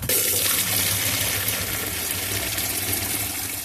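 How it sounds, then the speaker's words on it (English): Tap water pours steadily into a jug for mixing film developer, a loud, continuous broadband rush close to the microphone with no speech. "let's get on with putting the water in the jug first"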